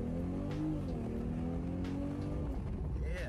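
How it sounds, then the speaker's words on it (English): A turbocharged BMW M440i convertible's engine hums and rises in pitch as it accelerates, with a steady close-up drone and a brief turbo whistling whoosh toward the end. "I don't know if you guys can hear these turbos"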